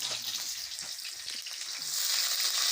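Onions fry in a hot pan with a steady, bright sizzle that swells slightly louder toward the end, close up and continuous with no talking.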